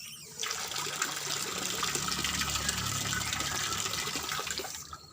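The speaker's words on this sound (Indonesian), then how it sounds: "Air keran, air pompa ini untuk keperluan sehari-hari." Tap water from a pump gushes steadily into a container, a continuous hissing, splashing flow that starts abruptly and stops near the end, fairly close and moderately quiet.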